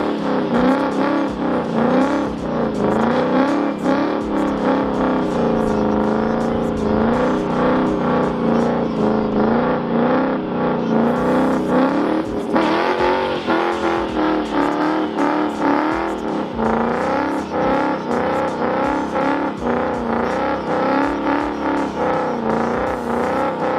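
A Ford Mustang GT's engine during a burnout, roaring loudly and steadily for over twenty seconds as revs rise and fall in a continuous pulsing drone, with faint background voices.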